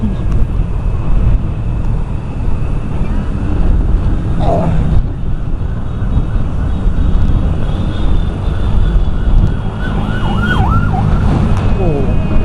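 A police siren wails through loud, dense street traffic in Makassar at night, heard from a moving motorbike, with the rising and falling tone clearest toward the end over constant engine and road rumble.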